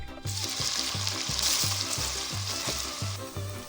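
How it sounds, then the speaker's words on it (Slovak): Diced onion sizzles in hot pork lard in a pot, a loud continuous frying hiss broken by a regular pulsing beat of background music, with no talking. "Do hrnca pridaj bravčovú masť a orestuj na nej tú cibulku."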